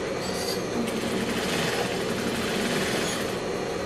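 A sewing machine runs in a continuous, steady whir while stitching along the edge of a girdle (faja) being enlarged, loud and close with no pauses and no talk.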